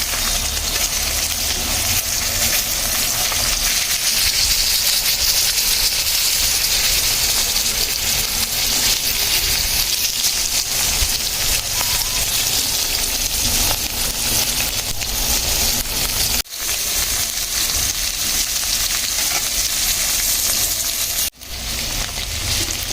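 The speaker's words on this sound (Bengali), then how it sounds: "মাছগুলোকে সুন্দর করে লাল লাল করে ভেজে নিব" Rui fish pieces frying in hot oil, a steady loud sizzle and hiss that runs unbroken throughout with no talking, briefly cut by two short dropouts near the end.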